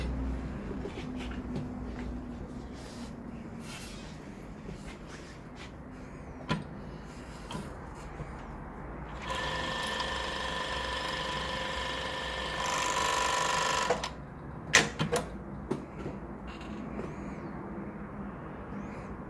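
An MS-880EXD sewing machine test-stitches in one steady mechanical run of a few seconds, set between quieter handling clicks and thumps.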